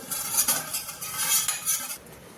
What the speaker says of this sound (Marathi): केकच्या भांड्याला आपण तेल लावून घेऊ.